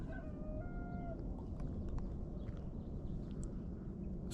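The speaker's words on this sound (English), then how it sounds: "A domesticated fowl," A domesticated rooster crows in the distance early on, a few faint drawn-out calls over a steady outdoor background rumble, followed by scattered small bird chirps.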